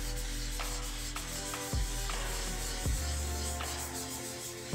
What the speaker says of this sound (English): all the grit do the work on the sanding sponge